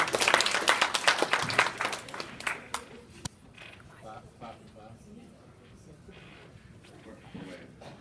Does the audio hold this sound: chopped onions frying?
no